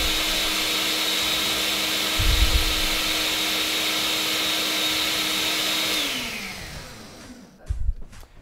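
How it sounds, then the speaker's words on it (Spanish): A blender whirs loudly and steadily as it purées mango for a chili sauce, then winds down and stops, followed by a couple of soft knocks. "Hay que licuar perfectamente bien para que el mango no quede esos tropezones."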